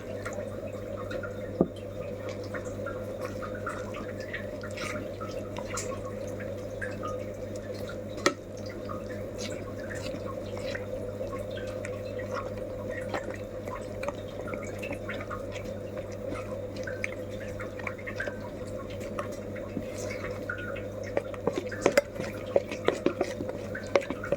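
Wet stirring and sloshing of thick batter mixed with water in a bowl, with scattered drips and light clinks over a steady hum of background noise.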